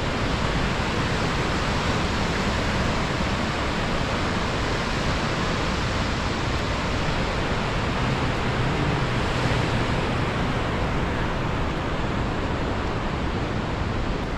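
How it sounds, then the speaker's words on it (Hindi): Water thunders out of the open gates of Ban Sagar dam on the Narmada river, a steady, dense roar of gushing spray with no breaks, loud and constant throughout. "पानी का फव्वारा बादलों की तरह चल रहा है"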